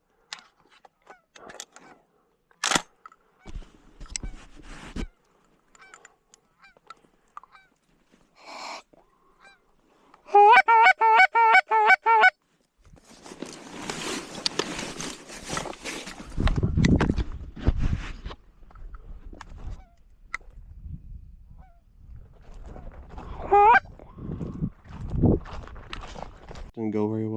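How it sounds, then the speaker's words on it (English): Canada or similar geese honking in flight over silos during an early-season North Dakota goose hunt, a burst of repeated honks in the middle and again later, with footsteps, rustling and occasional talk around them. "I hear more geese flying,"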